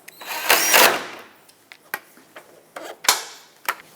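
Tightening a 10mm bolt on the front of a 2014-2021 Mazda 6 headlight assembly, a close burst of ratcheting or driver whir early, followed by several short, sharp clicks and taps spaced unevenly.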